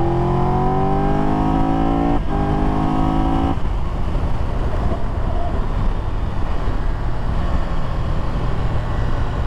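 A 2022 Triumph Tiger 1200 GT Pro motorcycle accelerating hard, engine note climbing through the revs before a shift, then a roaring rush of engine and wind noise, loud and close throughout with no speech.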